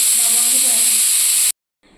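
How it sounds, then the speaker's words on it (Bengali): Pressure cooker steaming lentils with gourd lets out a loud, continuous high whistle that stops abruptly, followed by quiet low background noise. "আজকে প্রেশার কুকারে সিটি করছে"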